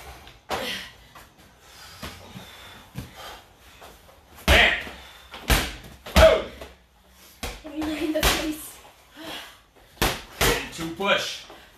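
Medicine balls slammed hard onto the floor during a full-body bootcamp workout, heard as repeated sharp booming impacts spread across the clip, some in quick pairs, mixed with a coach's speech and movement noise.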